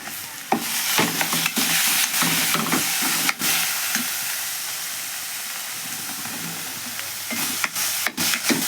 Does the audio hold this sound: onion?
yes